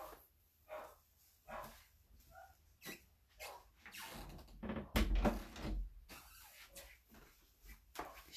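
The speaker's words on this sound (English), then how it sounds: "You can hear my dogs barking." Several dogs bark in scattered bursts indoors, some yaps sharp and close, others muffled, with a brief thump near the middle.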